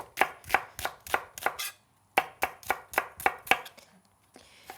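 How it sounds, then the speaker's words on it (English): Purple shallots being finely sliced with a knife, two runs of rapid, evenly spaced crisp chops on a board separated by a short pause, close and clear. "I have 2 shallots here, so purple shallots that I'll finely slice."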